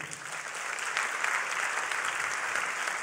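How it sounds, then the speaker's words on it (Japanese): An audience applauds panelists at a Nissay Theatre stage forum on the opera 'La Fille du Régiment', producing dense, steady clapping throughout with no talk over it. "大きな拍手をお願いいたします"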